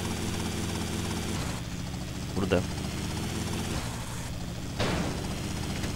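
Steady rotor drone of a helicopter in GTA Vice City, a continuous mechanical thrum running throughout at moderate level, with a couple of brief sharper noises cutting in and a voice speaking briefly over it.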